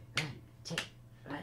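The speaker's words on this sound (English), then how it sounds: "you gave me a clap" A few sharp, isolated hand claps or snaps in a small room, each a brief crisp crack separated by short pauses, close and fairly quiet.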